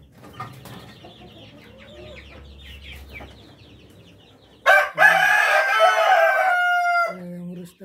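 A Rhode Island rooster crows loudly and close by in one long, drawn-out call, with softer hen clucks and farmyard noise before it.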